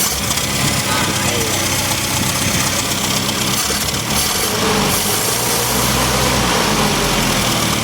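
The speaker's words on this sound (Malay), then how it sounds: "Enjin ni memang teruk enjin overheat." An old, long-unused van's engine idles with a rough, continuous rumble and some knocking, loud and close throughout; the engine overheats.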